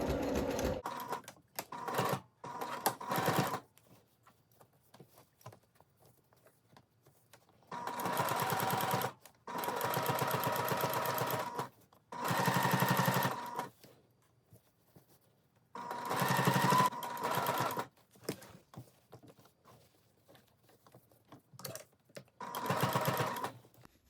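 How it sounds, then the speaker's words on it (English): A sewing machine runs along a basting stitch at 2.5 stitch length on reversible Lilly shorts, whirring in several steady bursts of a few seconds each, separated by quiet pauses. "I'm going to sew right along that basting stitch"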